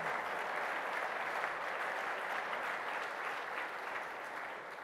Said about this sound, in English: why did everyone laugh and clap?